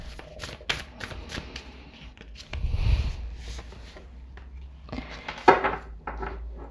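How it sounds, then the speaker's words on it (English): Tarot cards being shuffled, heard as repeated close, soft riffling and slapping bursts at an uneven rhythm, with a brief low thump near the middle. "Keep shuffling and shuffling and shuffling"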